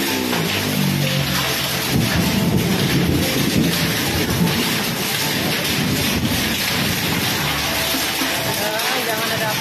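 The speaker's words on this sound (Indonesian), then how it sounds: "digegerkan dengan guyuran hujan es batu sebesar kelereng" Hail the size of marbles pours down during a storm in Dapur 12, Sagulung district, Batam, Riau Islands, with thunder rumbling; a dense, steady roar of pelting ice and rain fills the whole stretch, with a low rumble beneath and faint voices.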